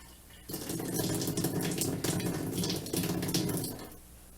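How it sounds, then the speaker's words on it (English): Water surges through a shower valve at a lodge as the supply is switched on, starting abruptly as a loud, steady rushing hiss and then dying away after a few seconds. "I'm going to turn the water on and see if it comes out the valve."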